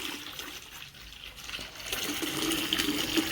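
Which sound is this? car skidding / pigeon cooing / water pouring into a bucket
water pouring into a bucket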